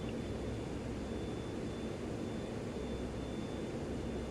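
A passing aircraft in the MSFS 2020 flight simulator, heard as a steady broadband engine roar and rush that holds at an even level throughout, with no voices over it.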